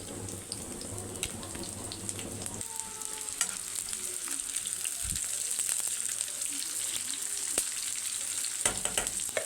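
Onions sizzling in oil for Egyptian koshari, a steady crackling fry with scattered pops and clinks, close and fairly quiet.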